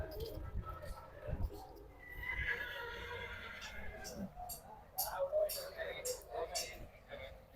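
Horses at the Anthiyur horse market neigh and whinny in several drawn-out calls amid scattered hoof clops and background chatter of people.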